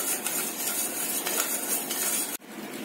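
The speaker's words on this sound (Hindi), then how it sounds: "इसको चलाते रहिए, ये जो शक्कर नीचे से जल जाएगी।" A spoon scrapes and clinks steadily against a pan of sugar syrup being stirred on the stove, continuous and close, stopping abruptly near the end.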